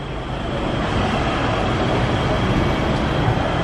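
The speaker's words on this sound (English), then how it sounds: "we just got on one of those trams" A loud, steady rumble fills a ride aboard the Victoria Peak tram in Hong Kong, continuous and even with no voices.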